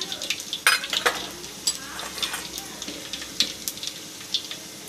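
Mustard seeds, urad dal and cumin temper in hot oil for a carrot fry, a close, busy sizzle with sharp crackling pops and occasional spoon scrapes; no words are spoken.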